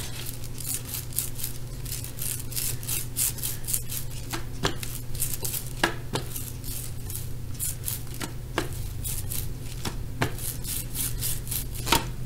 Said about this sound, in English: Trying to make sure I coat my brayer evenly.